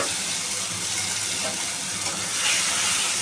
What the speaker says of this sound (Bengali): এবার এখানে আমি তেল গরম করে নিয়েছি। এবারে এখানে আমি কচুটা দিয়ে দেবো।